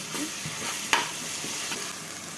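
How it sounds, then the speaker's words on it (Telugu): Food frying in a pan, a soft steady sizzle under scraping stirs, with one sharper clink of the spoon against the pan near the middle. "కొంచెం దూరగా ఫ్రై అయ్యే వరకు ఇలానే కలుపుతూ ఉండాలి."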